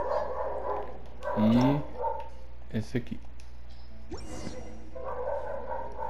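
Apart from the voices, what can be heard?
dogs barking in video game Genshin Impact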